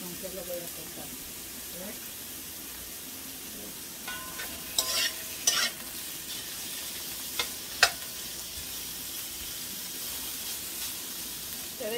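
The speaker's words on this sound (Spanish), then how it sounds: "miren que no tiene nada de aceite, simplemente para que se fría, miren, que no se le dé el aceite." Pork trotter frying in its own fat in a pan with no oil added, a steady soft sizzle with a few sharper crackles and stirring scrapes near the middle.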